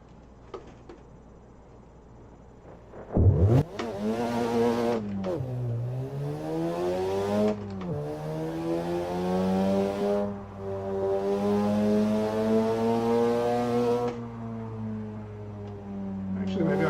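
Race car engine in a sim racing game time attack, revving with rising and falling harmonic sweeps, loud and close, running steadily after a sharp burst about three seconds in.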